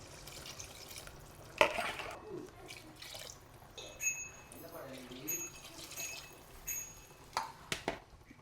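Three tumblers of water splashing and trickling into a pot of mutton biryani, with clinks of a metal vessel and scattered drips, while someone talks nearby.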